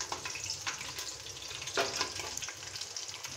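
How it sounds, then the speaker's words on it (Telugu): Onions, tomatoes, cumin and mustard seeds frying in two spoons of oil for a country chicken curry, a steady close sizzle broken by a few stirring scrapes, with no talk. "ఆయిల్ వేసిన తర్వాత కొద్దిగా వేయించాలి"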